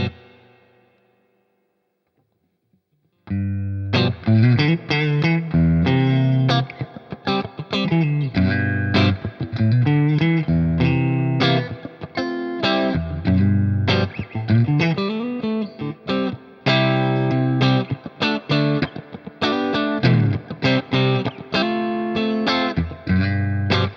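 Electric guitar on a vintage instrument played through a Fender Deluxe Reverb amp: after a brief quiet start, a loud, steady run of picked notes and chords rings out with reverb, with no talking.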